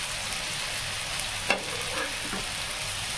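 Snake gourd fries in a pan with a constant soft sizzle, close and even, marked by one brief utensil tap midway and a faint scrape after it.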